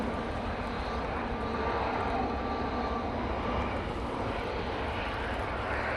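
An easyJet Airbus A320-200 at Manchester Airport readies for departure to Prague on a windy day, a constant dense jet engine roar with a faint whine and possible background talk beneath.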